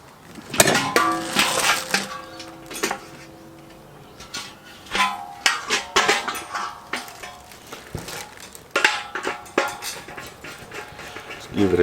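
Parts of a new Char-Griller kettle grill are tightened during assembly, giving irregular metallic clanks, scrapes and rattles of metal pieces, some close and sharp, with pauses between and someone talking at times.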